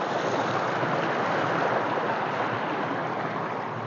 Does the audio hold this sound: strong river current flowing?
yes